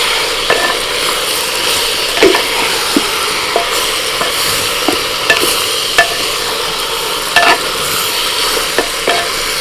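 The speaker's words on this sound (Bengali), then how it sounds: "পেঁয়াজ অর্ধেক ভাজা হয়ে গেছে এবার আমি মাংসটা দিয়ে দিচ্ছি" Country rooster meat frying with half-fried onions in a clay pot, a steady dense sizzle with scattered sharp clicks and scrapes of a stirring spoon throughout, no voices.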